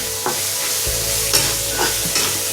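Chopped chili, ginger-garlic and onion fry in hot oil for Pallipalayam chicken, giving a steady, close sizzle broken by a few short scraping stirs.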